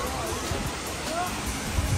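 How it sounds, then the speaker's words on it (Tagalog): Steady roaring rush of the Hongje waterfalls in South Korea, a dense continuous wash of falling water heard close, with faint voices mingling in the background. "Only waterfall."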